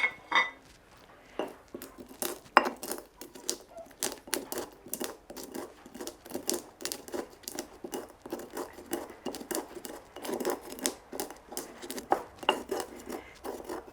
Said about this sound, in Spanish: Mientras voy a moler los olores aquí en el molcajete.